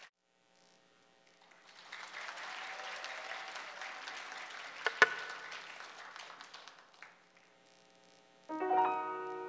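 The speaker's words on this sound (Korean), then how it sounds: "여러분 큰 박수로 맞아주십시오" A big round of applause from the audience at a Gwangju pansori performance swells up after a quiet start, holds as a dense wash of clapping with a sharp crack midway, then fades as music begins.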